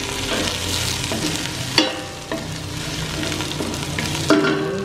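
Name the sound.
onion and garlic frying in oil in stainless pan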